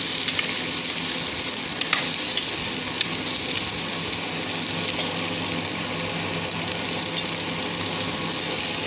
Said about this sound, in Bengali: তেল দিয়ে আমি মিষ্টি কুমড়া ভাজি করবো